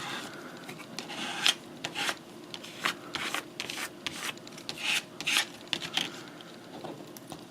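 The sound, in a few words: rubbing a vinyl decal onto a surface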